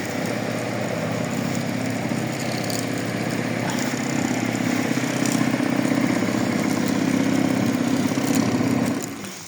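A moped engine runs steadily at close range, a continuous buzzing drone that holds even throughout with no talking over it.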